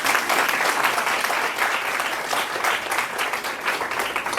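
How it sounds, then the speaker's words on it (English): Seminar audience clapping together, a steady, dense burst of applause holding at an even level for several seconds with no one speaking. "Clap for that."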